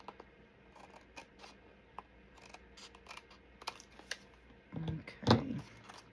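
Scissors trim a paper envelope pocket made from a book page. Soft, faint rustles and scrapes build to a louder close snip and crunch of paper near the end, with no talking.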